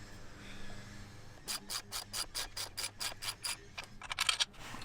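A hand wrench ratchets on a bolt of a 2021 Kawasaki ZX-10R motorcycle, a run of about a dozen quick, evenly spaced metallic clicks, close and quiet, ending in a faster cluster.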